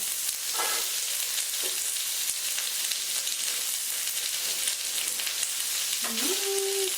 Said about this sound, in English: we're going to put the celery right in and the carrots right in.